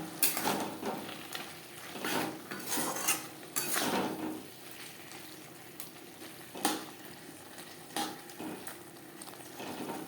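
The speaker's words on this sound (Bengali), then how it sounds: "চিকেনের সাথে গাজর ক্যাপসিকাম দু তিন মিনিট নাড়াচাড়া করে নেব" Chicken with carrot and capsicum is stirred in a pan for street-style chicken chow mein, with a spatula scraping and clanking against metal in irregular strokes over a soft sizzle, close and moderately loud.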